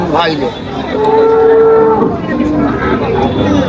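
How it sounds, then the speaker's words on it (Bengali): A cow moos loudly and close at a busy cattle market in Faridpur, one drawn-out call over a constant crowd murmur. "এই একটা গাভী"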